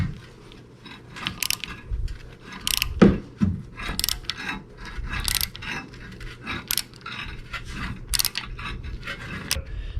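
A hand tool twists a rear brake caliper piston back into its bore on an Audi A4, giving repeated close metallic ratcheting clicks and scrapes in irregular bursts.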